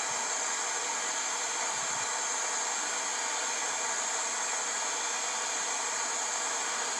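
A torch flame heating the hosel of a golf club head gives a steady, even hiss with no break, close and moderately loud.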